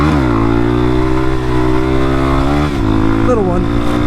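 Honda CRF230M dirt bike engine revving hard through a second-gear wheelie, a loud close buzzing drone whose pitch climbs steadily, dips as it shifts, then rises again.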